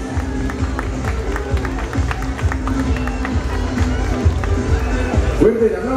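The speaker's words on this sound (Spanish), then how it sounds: "Fuerte el aplauso para ella." Audience applause for a candidate at a queen election and coronation pageant, a steady crowd clapping that fills the clip under an announcer's voice.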